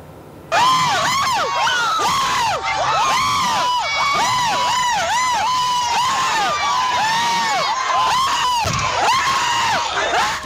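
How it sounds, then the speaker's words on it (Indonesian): Residents shout at the arrest of a suspect in Pasuruan, East Java. A loud, continuous clamour of many voices yells and jeers, with overlapping cries rising and falling throughout. "Teriakan warga mewarnai proses penangkapan terduga pelaku tindak asusila di Pasuruan, Jawa Timur"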